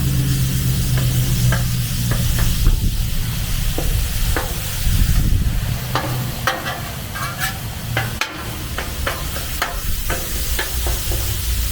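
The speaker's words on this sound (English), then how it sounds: "as I'm cooking the meat, I like to kind of break it up" Ground beef sizzles loudly on a Blackstone flat-top griddle while a spatula scrapes and breaks it into small pieces, with steady close frying and repeated metallic scrapes, no speech.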